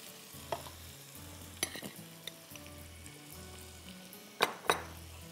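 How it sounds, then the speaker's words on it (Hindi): Chopped onions fry with a tablespoon of flour in a pan for a honey mustard chicken pie, a steady close sizzle broken by spoon scrapes and a few sharp clinks against the pan, with no talking. "दो मिनट इसको फ्राई कर लें।"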